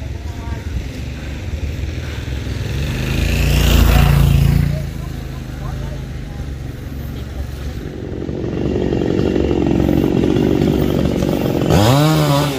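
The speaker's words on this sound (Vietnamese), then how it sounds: "Cây này thì cưa hết nhánh luôn cả nhà" Chainsaw cutting branches off a dipterocarp (Dầu) tree, its engine revving up loudly in bursts and settling to a steady drone, with a sharp rising-falling whine near the end.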